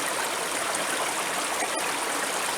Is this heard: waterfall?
yes